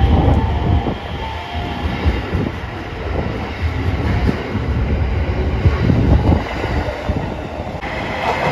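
A JR 7000 series local electric train pulls into Takamatsu Station on the JR Shikoku network, its steady rumbling wheel and motor noise holding loud and close throughout with a faint high whine above.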